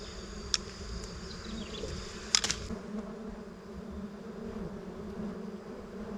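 Honeybees buzz steadily around a wild hive as it is collected outdoors, a dense continuous drone close by with a couple of brief clicks early on.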